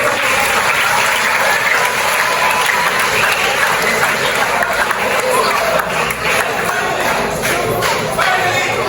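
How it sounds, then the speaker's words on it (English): An audience claps for pupils at a school mathematics awards event, a loud steady wash of applause with crowd noise that carries on throughout. "Give them a clap"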